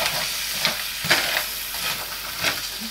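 Frozen, rock-solid peas stirred in a hot pan for a vegetarian curry: a continuous close sizzle and hiss with periodic scraping pushes of the spoon, no voices.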